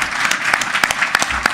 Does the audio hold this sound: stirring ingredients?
no